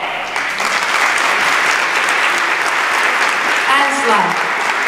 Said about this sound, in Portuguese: Vossos aplausos.